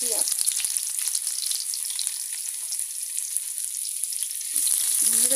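Chopped garlic and a medium onion fry in hot oil for a fenugreek greens stir-fry, giving a steady, close, continuous sizzle and crackle that swells slightly toward the end.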